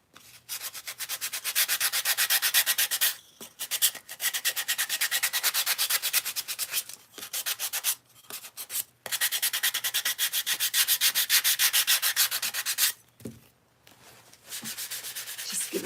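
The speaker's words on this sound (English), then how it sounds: "Just lightly sanding." Steady rhythmic rasping of sandpaper rubbed over wood, close and continuous, with a few brief pauses between strokes.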